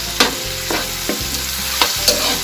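Pork liver frying in a pan while being stirred: steady loud sizzle with a few sharp scraping strokes of the utensil spaced through the stretch, close up and no talk.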